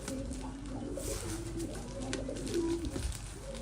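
A baby pigeon that fell from a building or roof is hand-fed and gives soft, repeated low coos and murmurs, close by and continuous, without speech.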